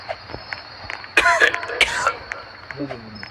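A couple of sharp coughs or throat-clearing sounds close by, preceded by a faint background tone and followed by a short vocal murmur.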